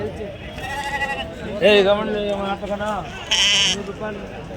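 Sheep bleat in wavering, repeated calls at a crowded Saturday-morning sheep market, several loud nearby cries rising over a steady hubbub of people talking and bargaining.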